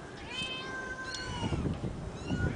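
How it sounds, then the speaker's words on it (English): Small kitten meowing several times, thin high-pitched repeated cries at close range over a low background rumble, with no talk. "Oh, this baby cat hiding there."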